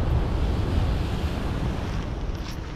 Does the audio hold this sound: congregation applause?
no